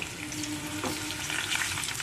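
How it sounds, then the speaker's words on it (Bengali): Boiled papaya pieces, sprinkled with salt and turmeric, fry to medium in a pan for papaya dalna, giving a steady, close sizzle throughout with no voices. "এটাকে মিডিয়াম ভেজে নেব।"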